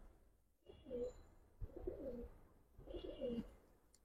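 Old Dhaka Giribaz pigeons coo softly nearby in three separate rolling bouts, with brief quiet gaps between them.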